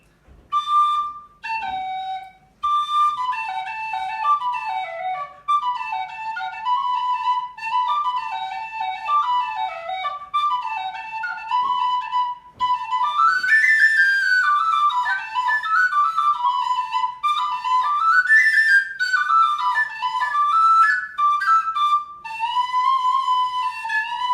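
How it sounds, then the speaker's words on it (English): A Tony Dixon tunable tin whistle with a heavy aluminium body plays a lively, clear melody with quick ornamented runs that climb into the upper octave, loud and close with no talking. "This is the Tony Dixon aluminium bodied whistle"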